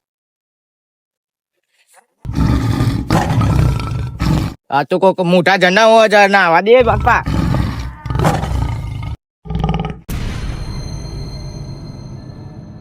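In a farm field, a man imitates a tiger's roar with loud, drawn-out growling bursts that rise and fall, broken by short pauses, while other people talk between the roars.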